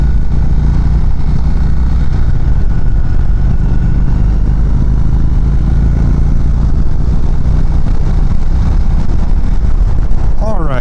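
A 2019 Indian Chieftain Dark Horse motorcycle cruising in sixth gear at 75 mph on a highway, its engine drone buried in a constant loud roar of wind rush that never lets up.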